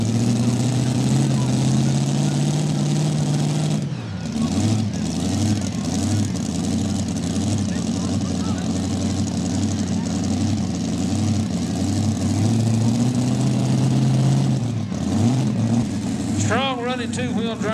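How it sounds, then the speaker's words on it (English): A Ford two-wheel-drive pulling truck named Papa Bear, from Pulaski, Tennessee, idles and runs steadily at a night truck and tractor pull in Ardmore, Tennessee, a constant loud engine drone with a dip and swell, while an announcer talks over it. "Strong running two-wheel drive truck right here out of Pulaski, Tennessee. The Ford entry called Papa Bear."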